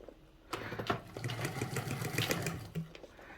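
A sewing machine stitches in a fast, steady mechanical whirr with rhythmic needle clatter, starting abruptly after a quiet moment and running close up before a brief pause and restart.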